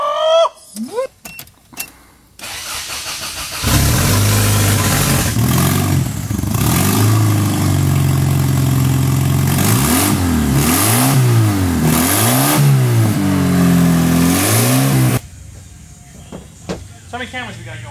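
A full-size Toyota's engine revs on a radio-controlled throttle out in the desert, a loud sustained roar with repeated rises and falls in pitch, preceded and followed by people talking.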